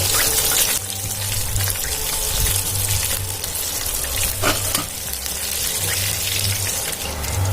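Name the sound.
quail frying in oil, restaurant-style KFC quail fry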